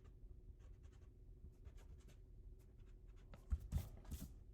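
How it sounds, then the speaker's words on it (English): Pencil drawing on paper being erased, a soft scratchy rubbing with several short strokes that grow louder and denser toward the end, close and alone. "And then I erase this here."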